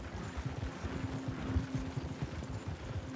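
Horses pull a wagon in Red Dead Redemption 2, their hooves clip-clopping in a steady, rhythmic trot at moderate volume, with no talking.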